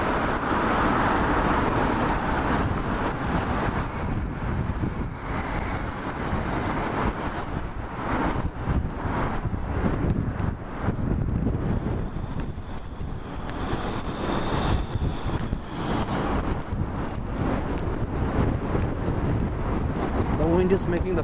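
Wind gusting along Front Street in downtown Toronto near Spadina on a cold day, a steady broadband rush with traffic noise and faint voices mixed in, continuous and fairly loud throughout.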